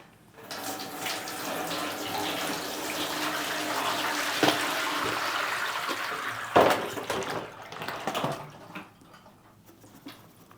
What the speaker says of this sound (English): I'm just going to dump everything in it.